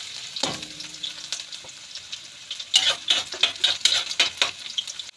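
Garlic and onion sizzle in a hot pan while a utensil scrapes and stirs them in quick, uneven bursts, with the frying growing busier toward the end.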